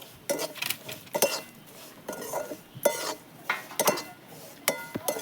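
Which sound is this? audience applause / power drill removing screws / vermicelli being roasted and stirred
vermicelli being roasted and stirred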